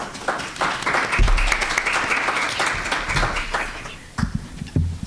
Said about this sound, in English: give a round of applause for our wonderful panel today